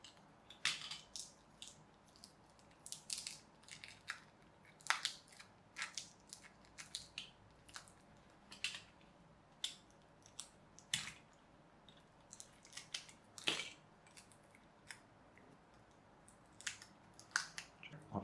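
Scissors snip through tape wrapped around a lithium-polymer battery pack pulled from an Amazon Echo, giving a run of sharp, brief cuts and crinkles at an irregular pace, close by and fairly quiet, with no voices.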